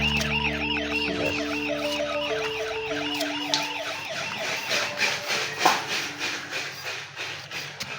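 A toy fire truck siren wails in repeated rising-and-falling electronic cycles, loud and close, over a steady hum, with clicks and rattles as the play fire engine runs through its water-spraying firefighting routine.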